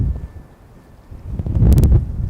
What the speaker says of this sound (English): Give you an idea of just how breezy it is.